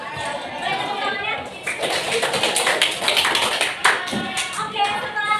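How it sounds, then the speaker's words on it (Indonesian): Students in a Jakarta junior high school classroom break into a burst of applause, dense irregular hand claps that start faintly and swell, with chatter and voices mixed in throughout. "Oke, boleh tepuk tangannya?"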